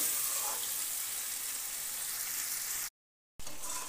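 Chicken being sautéed in a pot, a soft steady sizzle that runs close and even, breaks off briefly near the end, then resumes.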